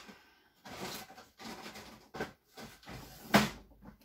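A wooden drawer slides open in a home workshop to fetch a scraper, a few soft rubbing scrapes followed by a sharp knock near the end, close and fairly quiet.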